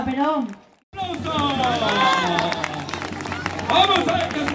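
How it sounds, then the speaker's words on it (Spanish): Carnival audience at an outdoor comparsa show in La Guardia, Toledo, bursting into sustained loud applause and crowd noise after a short break. Clapping and cheering continue steadily under a spoken voice. "¡Aplauso!"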